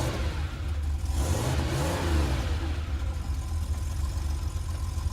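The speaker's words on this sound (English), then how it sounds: "let's imagine you're in a sports car." A sports car engine revs and accelerates, a steady loud roar with a rising pitch sweep midway, close and continuous with no voices.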